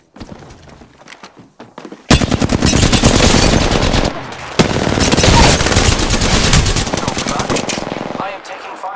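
Rapid machine-gun fire in a video game, loud and close, with a long sustained burst after a few scattered shots and a brief break midway before firing resumes, then tails off.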